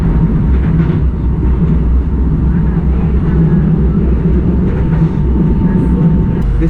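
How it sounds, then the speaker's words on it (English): A commuter train arriving at Sintra station on the line from Rossio or Oriente, near Lisbon, gives a steady, loud low rumble that holds evenly throughout, with faint higher squeals riding on top. "This is the train that has either come from Rossio or Oriente, comes to Sintra."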